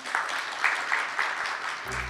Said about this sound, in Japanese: 会場の皆様改めましてもう一度大きな拍手をお送りください